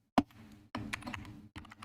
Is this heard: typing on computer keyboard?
yes